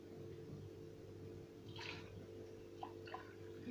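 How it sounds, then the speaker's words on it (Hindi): Cold water is poured into a container for making homemade butter, producing a soft running splash with a few brief drips near the end, fairly quiet and without talk. "तो इसमें डालेंगे पहले पानी।"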